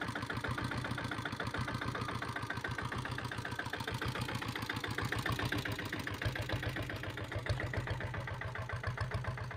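A 2000 model Taurus motorcycle idles after a kick start, its engine thumping in a fast, even, steady rhythm throughout, close by with no voices.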